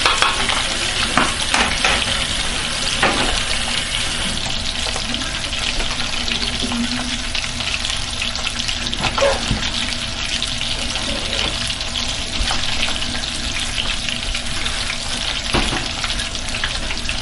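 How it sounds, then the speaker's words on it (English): Steady loud sizzling of fish frying in sauce in a pan, a continuous crackle with occasional stirring clatter, no voices. "transferred it to a frying pan so it will be easy to toss the fish in it and fry them all together"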